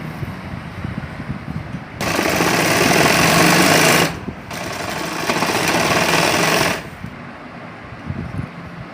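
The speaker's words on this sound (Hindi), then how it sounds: "हम अस्तर के कपड़े पे सिलाई लगा रहे हैं।" A sewing machine stitches straight seams through lining fabric for a bridal lehenga, running in two steady loud bursts of rapid whirring with a short pause between them, faint room noise before and after.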